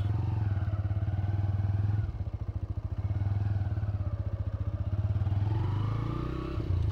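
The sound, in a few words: TVS Raider 125 motorcycle making a tight turn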